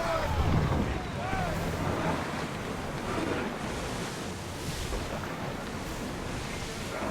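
Ancient Greek ship under way at sea in Assassin's Creed Odyssey, waves washing and wind rushing steadily around the hull, with creaks and faint voices early on.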